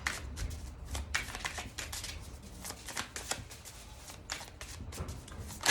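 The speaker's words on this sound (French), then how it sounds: "Ok, on va prendre mon oracle. Magic Luna. Allez, on va faire un tirage." Oracle cards are shuffled by hand for a reading. Dense, continuous riffling and flapping sounds up close, fairly loud throughout, with a sharper flick at the very end and no talking.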